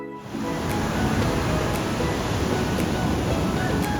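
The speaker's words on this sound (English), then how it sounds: "You can still get your dose of ocean up to your knees when waves come crashing." Ocean surf crashes and roars continuously in a dangerous shore break at Kelingking Beach, Nusa Penida, a loud, steady wash of waves with no talking.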